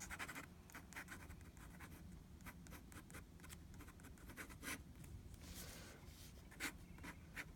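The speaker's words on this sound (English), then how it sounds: "This is a Sheaffer desk pen that has a really, really fine nib." Sheaffer desk pen with a very fine nib scratches across paper while drawing skeletons, a soft, close, continuous rasp broken by quick irregular strokes and light taps.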